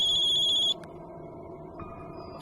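A phone rings with a high electronic trill for under a second, then goes quiet over a low room hum, with a faint short chirp near the end.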